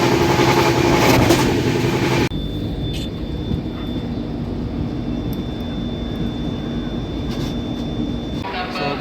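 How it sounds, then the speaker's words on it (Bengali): The Himgiri Express runs on its rails as a steady, broad rumble that carries on without a break, loud and near, and there is no talk over it. "এই আমাদের ট্রেন ছেড়ে দিচ্ছে দীনদয়াল উপাধ্যায় থেকে।"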